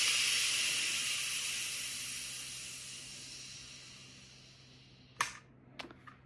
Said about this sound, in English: So we're gonna go ahead and release the pressure.